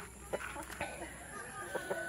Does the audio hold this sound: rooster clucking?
yes